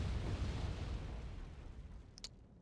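Artillery shelling in the Wargame strategy game: a low, continuous rumble of distant explosions rolling together, fading slightly, with a brief sharp crackle near the end.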